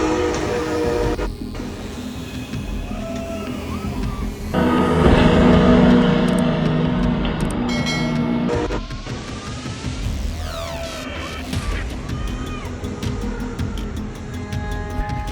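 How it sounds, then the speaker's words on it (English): A Brightline high-speed train hits a stranded SUV on the tracks, heard as a loud, continuous rolling rumble with a heavier surge midway and tonal whines riding over it, with no talk. "Brightline high-speed train slams into a stranded SUV on the tracks, with the entire incident caught on camera"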